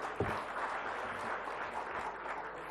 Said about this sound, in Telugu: come on give a big claps to Revanth Reddy